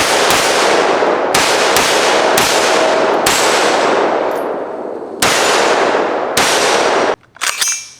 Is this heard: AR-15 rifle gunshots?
yes